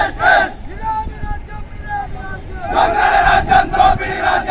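A crowd of protesters shouts and chants beside the Narketpally highway, with loud overlapping voices throughout that swell stronger and denser in the last couple of seconds.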